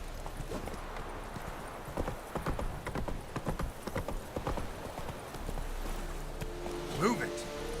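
Roach, a horse in the video game The Witcher 3, with steady clip-clop hoofbeats on the move, moderately close and rhythmic, under voiced character dialogue, with a short whinny near the end.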